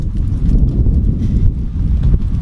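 Wind gusting outdoors at a shooting range, a loud steady low rumble buffeting the microphone without pause, no voices.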